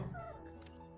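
A cat gives a single short meow, close and faint, with no talk over it.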